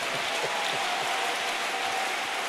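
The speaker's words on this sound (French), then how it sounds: "Est-ce qu'on peut acclamer Jésus?" A church congregation claps and cheers during a worship service, a dense steady wash of applause throughout.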